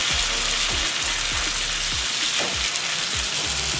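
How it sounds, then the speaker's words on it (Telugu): Spicy masala-coated fish pieces frying in a pan on medium flame, giving a dense, continuous sizzle and crackle with quick popping spits, close and steady throughout. "ఇలా ఇంకో వైపు టర్న్ చేసుకొని ఇటువైపు కూడా మీడియం ఫ్లేమ్లో వేయించుకుందాం"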